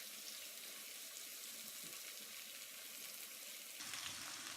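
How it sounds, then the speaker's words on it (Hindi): Onions frying in ghee in a pan, a soft, even sizzle that hisses steadily without pause, faint and close, brightening slightly toward the end. "एक पैन में घी डालकर इसमें प्याज डालें और हल्का गोल्डन करके"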